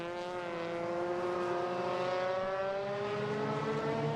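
Race car number 76 rounding the final corner in a Malaysia Championship Series race, its engine a steady, loud droning whine that climbs gradually in pitch as it accelerates out of the bend, alone without voices.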